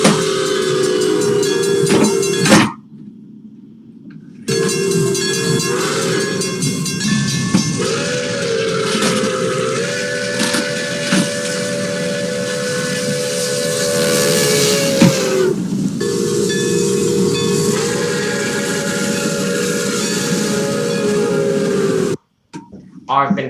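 Throaty steam locomotive whistle for a Berkshire model train, sounding in long sustained blasts with a few short breaks and pitch shifts, loud and close over a steady hiss.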